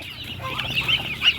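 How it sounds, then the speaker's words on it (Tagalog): A tethered chicken clucks and squawks up close in a few quick, shrill bursts, with no talking. "Bakit may nakatali na manok dito?"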